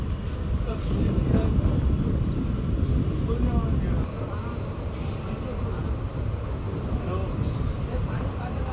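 A passenger train between Madurai and Rameshwaram runs with a steady loud rumble of wheels on track and a couple of brief high squeals, and a voice talks over it.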